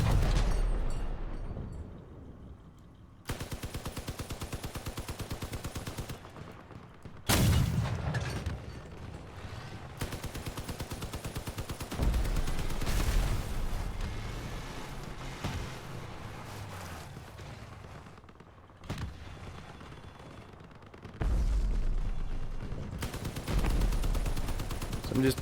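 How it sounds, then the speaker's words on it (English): Machine guns fire in the vehicle combat game Crossout, long rapid bursts of rattling shots in repeated stretches, mixed with booms, engine noise and occasional game sounds across about twenty-five seconds. "These machine guns really aren't too good at long range"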